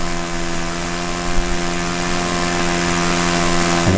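A Harrier model airplane flies overhead while rolling, its engine a loud, steady tonal drone with a slight pitch shift near the end, alone with no talk.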